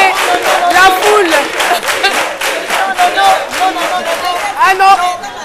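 A large crowd at a televised event roars and cheers loudly and continuously, with voices shouting and yelling together in a dense wall of sound.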